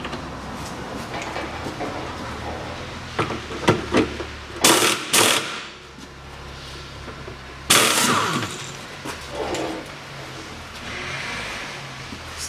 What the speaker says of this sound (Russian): Я попробую открутить пистолетом.